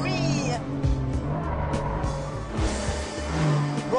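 A TVR Sagaris sports car drives hard with its tyres squealing in long, wavering screeches over a steady engine roar, up close and fairly loud, while a voice talks over it.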